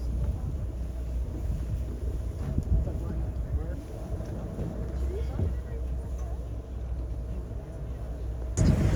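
A cruise boat moving through water in Kenai Fjords, Alaska, steady engine and water rush mixed with wind buffeting the microphone, continuous and fairly loud throughout.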